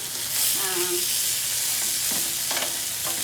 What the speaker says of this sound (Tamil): நான் இன்றைக்கி ஜஸ்ட் ஒரு டேஸ்ட்டுக்காக நான் ஃப்ரை பண்ணுறேன்